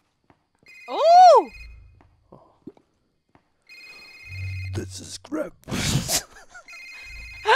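A telephone rings in a Krampus-themed Christmas video game, one bright warbling ring near the start, followed after a pause by a voice and other game sounds.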